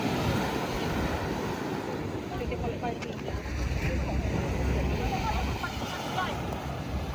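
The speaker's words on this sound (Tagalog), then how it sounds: "this is a beach" Ocean surf at a San Francisco beach: a continuous wash of waves rolls in, loud and close, with heavy wind buffeting the microphone.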